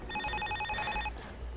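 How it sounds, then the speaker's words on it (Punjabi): A telephone ringing in a household scene, a quick electronic warbling ring in two short bursts, close and fairly faint. "ਮੇਰਾ ਤਾਂ ਫੋਨ ਆ ਗਿਆ"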